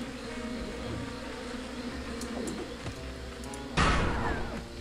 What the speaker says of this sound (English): if I shoot the bees